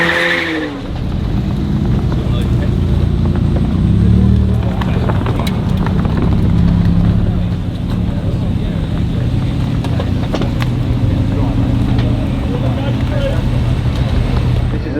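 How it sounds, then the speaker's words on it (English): A V12-engined car at the Goodwood Festival of Speed runs past with a loud, sustained engine roar and shifting pitch, with a commentator talking over it throughout. "it's the V12 engine"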